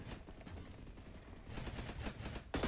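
AA-12 automatic shotgun firing in a video game, a fairly faint string of rapid blasts in bursts, with a louder shot right at the end and no talking.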